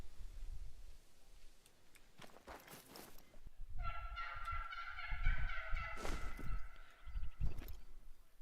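Wild turkeys in the hunting game theHunter: Call of the Wild give a loud, harmonic gobbling call of rapid repeated notes, with a few scattered knocks and footstep-like thumps before and after.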